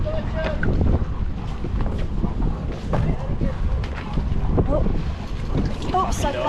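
Wind while sailing on a sailboat, a loud continuous buffeting rush with microphone wind noise and water sounds around the boat, with voices calling out at times.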